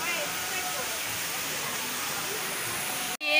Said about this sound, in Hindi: ये नर्मदा नदी है,